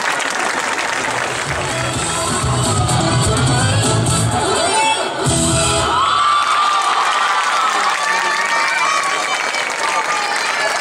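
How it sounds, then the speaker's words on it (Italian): A crowd at a children's dance performance in Paceco, Italy, applauds and cheers loudly, clapping blending with children's shouts and whoops, sustained throughout with voices rising over the noise. "Un applauso più forte a questi bimbi"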